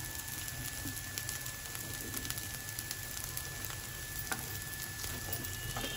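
Maggi and potato snacks fry in a pan with little oil, crackling steadily and closely as they are turned one by one, with small stirring clicks over the continuous sizzle.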